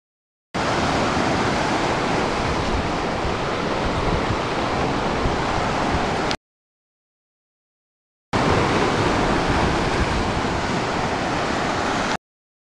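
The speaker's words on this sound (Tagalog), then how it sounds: "Rinig ko yung alon, sobra." Ocean waves at a beach in Pagudpud, Ilocos Norte, heard as a loud, broad wash of surf that runs in two long stretches, with a short silence between them.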